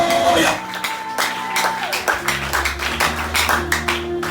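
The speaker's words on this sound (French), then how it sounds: "Est-ce que tu peux applaudir?" A congregation clapping during a Sunday church service, rhythmic hand claps over sustained organ or keyboard tones, with a preacher's voice and music running beneath.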